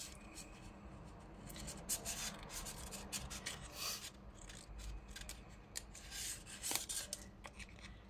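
Scissors snip through Action stickers being cut into labels and bookmarks, a run of quiet, close, rhythmic cutting and rubbing sounds with no voices.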